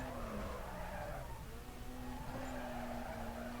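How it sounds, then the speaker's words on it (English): A car drifting in the Wii racing game Need for Speed Carbon: a steady, loud engine drone with tire skid and squeal running continuously, with no talking. "that was a good drift there."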